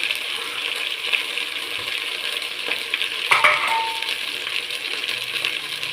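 Slit green chillies fry in a pan for vegetable biryani, giving a steady, moderate sizzle throughout, with a brief metallic clink of a utensil partway through.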